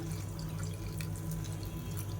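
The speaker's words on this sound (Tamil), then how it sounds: "இப்போ இதில் நல்லா கொதிக்கிற தண்ணியை சேர்த்துக்கலாம்." Boiling water pours steadily into a bowl of dried chillies and tamarind, giving a continuous, close liquid splash and trickle with no talking.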